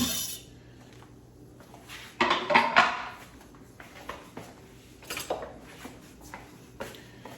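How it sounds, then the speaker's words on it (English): Chopped yellow onion added to a cooking pot, a burst of rattling and scraping clatter, followed by scattered lighter clinks and shuffling. "Okay, so I'm going to add my chopped up onions."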